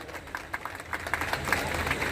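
An audience at a ceremony applauds with scattered, uneven clapping that swells gradually over a couple of seconds in a reverberant hall.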